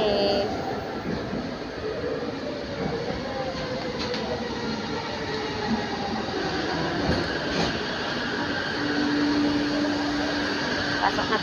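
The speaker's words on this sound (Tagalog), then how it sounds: "Ay, nandiyan na yung train ko, guys. Ito ang train, oh, papunta." A train pulls into a busy station at Pasar Seni in Kuala Lumpur, its steady rumble and rail noise building over about eleven seconds, with a brief high wheel squeal toward the end and a few faint voices in the background.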